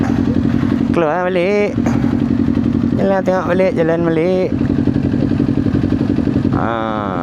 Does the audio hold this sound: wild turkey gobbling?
no